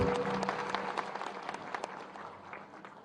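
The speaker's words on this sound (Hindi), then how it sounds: "एक बार ताली बजा के किसानों का ही स्वागत करें हम" An audience of farmers and guests at an outdoor public event gives a fairly faint, scattered round of applause, individual claps standing out and slowly thinning as it fades.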